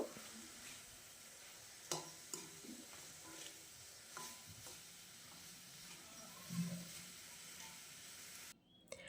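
Gooseberry pickle being stirred with fried spices in a pan, giving soft scraping strokes and a low sizzle at a steady pace, close and fairly quiet, with no talking.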